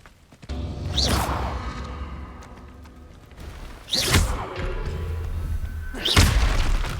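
Incendio fire spell cast in Hogwarts Legacy, three separate whooshing fiery bursts with booming thumps, each swelling quickly then fading, spaced roughly three seconds apart over a steady low background rumble.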